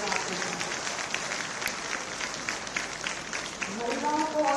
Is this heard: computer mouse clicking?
no